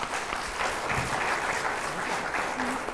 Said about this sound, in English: please give a round of applause for all the people who've spoken